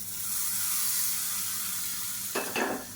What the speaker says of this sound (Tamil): கடுகு, உளுந்து, பெருங்காயம், கருவேப்பிலை, வரமிளகாய் போட்டு தாளித்ததை சட்னியில் சேர்த்துக்கலாம்